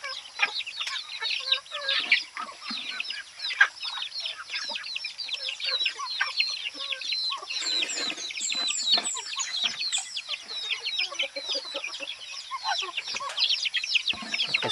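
Muscovy ducks feed in a backyard, making a busy run of soft, rapid, overlapping chirps and clucking calls that go on without a pause at modest volume.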